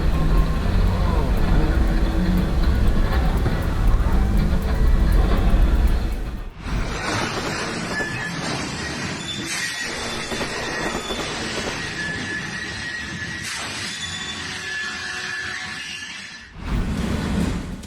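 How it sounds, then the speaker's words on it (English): Freight train passing over a road crossing north of Saskatoon during a derailment, loud rumbling with clattering wheels and squealing metal, then a sudden shift to harsher scraping and banging, with talk partly heard. "A train derailed while crossing an intersection north of Saskatoon"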